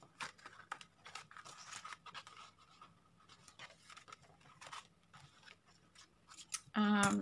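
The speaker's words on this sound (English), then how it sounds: "So I'm just going to cut the very end off." Scissors cut the end off a paper journal page in a run of close, crisp snips and scraping strokes, fairly quiet, ending with a louder rustle of paper.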